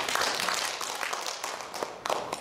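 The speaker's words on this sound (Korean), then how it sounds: "박수 한번 보내주세요" An audience at a Korean filial-piety instructor selection session gives a burst of dense, crackling applause that stays close and steady for a couple of seconds, with no voices over it.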